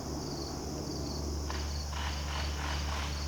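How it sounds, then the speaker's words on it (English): Crickets chirp in a steady, dense outdoor chorus at night, moderately faint, with a brief stretch of distant background noise partway through and no talking. "the crickets just got interrupted by the guy next door doing some work."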